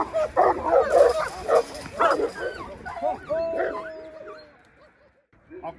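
A Caucasian Shepherd dog barks and yips in a rapid, loud burst of several calls, then the sound tapers off into whimpers and near-silence toward the end.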